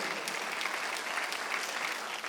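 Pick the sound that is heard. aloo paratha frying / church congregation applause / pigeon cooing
church congregation applause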